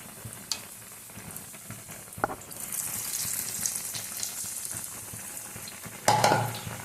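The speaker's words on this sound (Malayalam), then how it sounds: "ഓരോരോ സ്ലൈസ് മുക്കിപ്പൊരിക്കും" Bread slices dipped in loose batter and deep-fried for bread bajji give a steady sizzling crackle that swells midway, with a sharper, louder burst of frying near the end.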